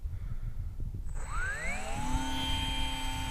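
A Volantex Ranger 600mm RC plane with twin brushless motors at half throttle spins up to a high, whining buzz after a throw launch, the pitch sweeping upward and then holding steady as wind noise rumbles underneath.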